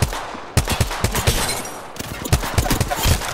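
Rapid bursts of automatic gunfire in a squad-based shooter video game, loud and close, with repeated sharp cracks packed together across the whole stretch.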